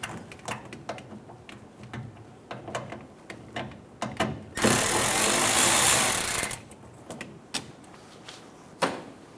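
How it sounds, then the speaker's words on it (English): An 8mm socket ratchet loosening the filler neck hose clamp on a 2014-2018 Chevrolet Silverado 1500 during fuel pump replacement: scattered light clicks and taps, then a steady two-second burst of buzzing power-tool whir, followed by a few more clicks. "Using an 8mm socket,"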